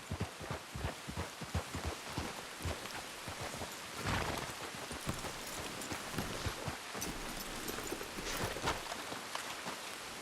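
Hooves of horses in the video game Red Dead Redemption 2 clop in a steady, fairly quick rhythm under a dense, rain-like wash of background noise that runs through the whole stretch.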